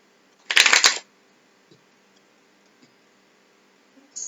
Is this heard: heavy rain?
no